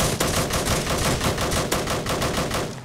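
Rapid automatic gunfire in a zombie apocalypse game, a dense continuous burst of loud, evenly spaced shots filling the whole stretch without pause.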